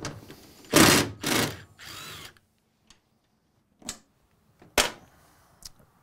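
Power tool spinning out 13 mm bolts from a Nissan LEAF battery pack: two loud, close whirring bursts, then a quieter run, followed by scattered clicks and two shorter buzzes amid near silence.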